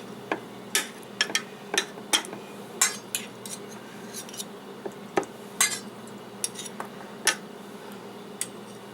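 Two spoons clinking and scraping as ziti is scooped into a muffin cup, a string of light, sharp metallic ticks at irregular intervals, fairly close and quiet, with no talking.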